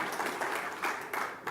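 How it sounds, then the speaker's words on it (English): An audience at a State of the State address claps steadily, a short burst of moderate applause with a lively, uneven patter of many hands. "Just in time for the cameras to arrive to hear you clap"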